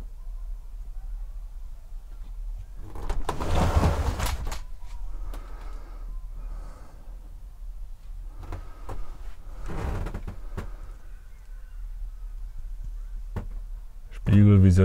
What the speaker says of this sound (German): Hat natürlich auch eine Tür.